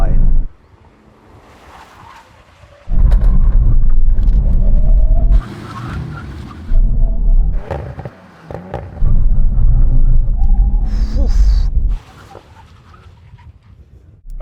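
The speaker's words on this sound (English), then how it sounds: "Full emergency stop from 100 miles an hour when we reach the line." Mercedes-AMG C63, BMW M3 Touring and Audi RS4 Competition making a full emergency stop from 100 mph on a drag strip, heavy rumbling road and wind roar swelling in loud surges with brief lulls between, voices talking over it.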